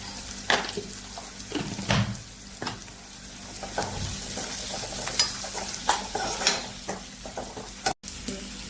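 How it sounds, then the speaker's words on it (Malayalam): Sliced onions sauté with a little salt in a pan, a steady sizzle broken by repeated scraping strokes of a spoon stirring them, close and moderately loud with no talk. "സവാള പെട്ടെന്ന് വാടാൻ വേണ്ടി കുറച്ച് ഉപ്പിടാം"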